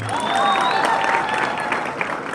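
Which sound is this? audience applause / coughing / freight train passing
audience applause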